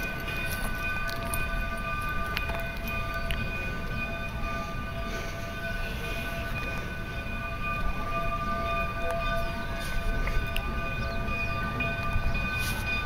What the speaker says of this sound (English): The train's right here.